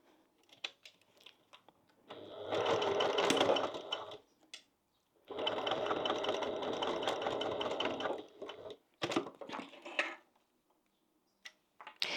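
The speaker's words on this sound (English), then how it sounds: "So now we're going to sew across that line." A sewing machine stitches across a line on a fabric pouch in two sustained close whirring runs separated by a pause, followed by a few scattered clicks and handling noises.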